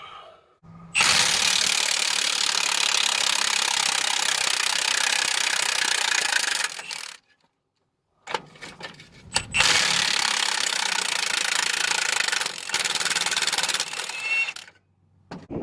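Power tools work loose a U-bolt on the rear suspension of a square body Chevrolet Suburban, loud sustained buzzing runs in two long bursts separated by a short pause and clanking, close up with no talking.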